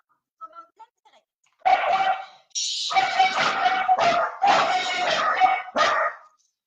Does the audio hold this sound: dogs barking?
yes